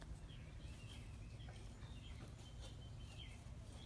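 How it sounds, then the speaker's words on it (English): Faint birdsong chirps drift in from a distance over a low outdoor rumble on a Sunday morning, with short bright calls scattered throughout. "You hear the birds."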